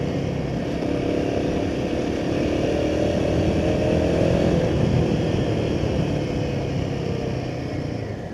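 A Royal Enfield Himalayan 450 motorcycle is being ridden, with the engine's steady drone and wind rush running continuously close by. There are slight shifts in pitch but no clear gear change stands out, and no one talks.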